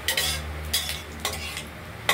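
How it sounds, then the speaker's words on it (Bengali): Mustard seeds tempering in hot oil in a wok, a busy sputtering sizzle with sharp crackling bursts recurring every half second or so, close and steady, no voices. "এবার সর্ষে ফোড়ন দেব।"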